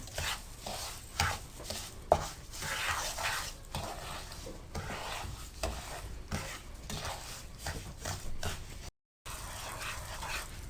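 Sugar being stirred into roasted gram flour (besan) for halwa, a steady scraping and stirring texture with soft sizzling from the pan, continuous and close, with a brief silent gap near the end.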